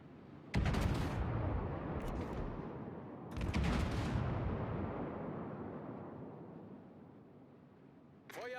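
Heavy gunfire and blasts boom in a video game battle: two loud, close bursts, each trailing off into a long rumbling decay, with a short sharp sound at the very end.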